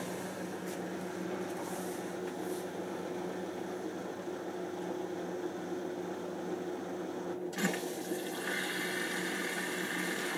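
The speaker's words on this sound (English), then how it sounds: "drain pump's working" An appliance drain pump runs with water during a test fill, giving a steady, moderately loud whirring hum with a rushing water texture, then a short clunk near the end followed by a brighter hiss.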